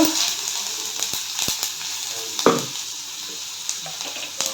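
Onions frying in a pan give a steady close sizzle with scattered crackles and a few stirring scrapes, continuous throughout with no talk.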